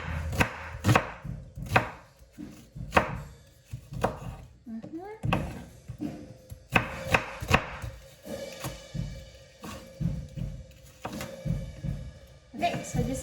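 Knife slicing through raw chicken on a cutting board for Ilocano-style chicken adobo, a steady run of close, sharp chopping taps with a voice speaking briefly in the background.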